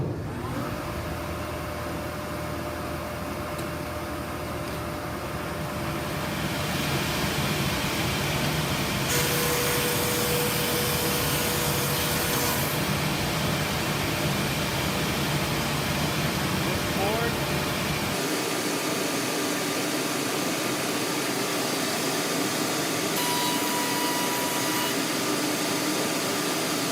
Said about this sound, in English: I'm going to turn my main motor back on, and then I'll turn the dust collection